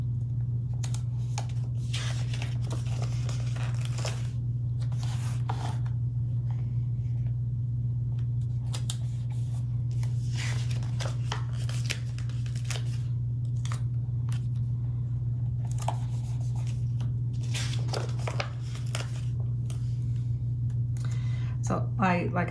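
Paper being cut with scissors while making a flower-decorated journal spread, heard as intermittent crisp snips and rustles in scattered bursts over a steady low electrical hum, close to the listener.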